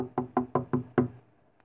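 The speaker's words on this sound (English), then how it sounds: "I heard knock on the door" Five sharp knocks on a door come in a steady, evenly spaced run, close and distinct, then silence.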